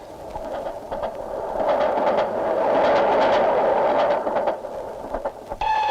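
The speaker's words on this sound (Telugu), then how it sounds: "అయ్యో, రైలు వచ్చేస్తుంది" A train pulls into a station, a rumbling approach that swells to a loud, steady roar with faint clacking, then eases off near the end.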